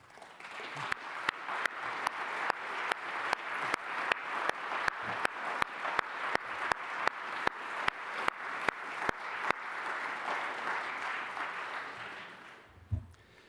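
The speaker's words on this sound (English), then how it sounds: "now is the moment to express our gratitude and applaud our volunteers" A crowd at a forum closing session applauds volunteers steadily for about twelve seconds, with regular rhythmic clapping beats standing out, then the applause fades away.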